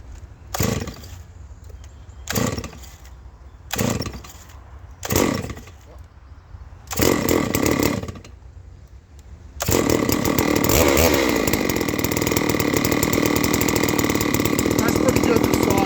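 A chainsaw milling a huge black oak slab, started cold without choke after sitting about fifteen minutes: several short pulls and sputters, then the engine catches and roars loud and steady under load, close by.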